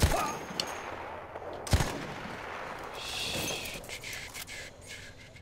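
Enemy gunfire in Battlefield 1, sharp shots and short rattling bursts at moderate distance over a constant low battlefield rumble.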